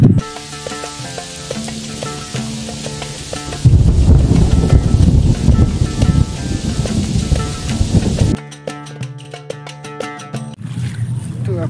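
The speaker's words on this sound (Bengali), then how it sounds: "ওই দিক থেকে বৃষ্টিটা আসছে, এখন হয়তো অল্প অল্প করে আসছে" Approaching rain in a flooded village builds into a steady, loud hiss and patter that swells midway and then breaks off, with people talking over it.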